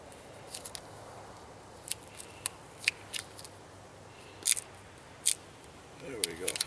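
Tape is pulled off the roll and wound in a spiral around the handle of a PVC longbow. Sharp ripping and crackling bursts come at irregular intervals over a faint background, close to the listener.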